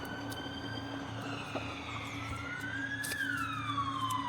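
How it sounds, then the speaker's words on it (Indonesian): An ambulance siren wails in rising and falling sweeps, growing louder as it draws closer and peaking sharply near the end, over a low steady rumble with no clear talk. "Kayak suara ambulan."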